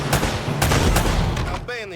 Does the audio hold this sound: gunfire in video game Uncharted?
yes